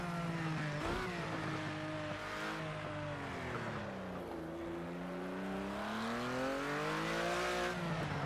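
A Porsche 911 GT3 RS in the racing game Project CARS 2, running untuned, howls loudly and continuously, its engine pitch rising and falling through gear shifts and revs as the car races.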